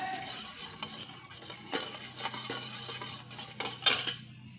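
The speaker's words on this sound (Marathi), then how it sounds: "साखर आणि हे पूर्ण हलवून घेतलं आहे छान असं साखर आणि दूध एकत्र" Sugar stirred into milk to dissolve it, a spoon scraping and clinking against a metal vessel in soft irregular strokes, faint and close, with a brief sharper clink near the end.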